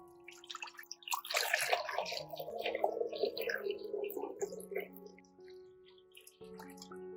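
Water runs into a basin of clean water being prepared for washing eggs, a splashing, gurgling fill with some drips, moderately close and heard alone.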